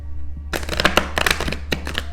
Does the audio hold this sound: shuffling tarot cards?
yes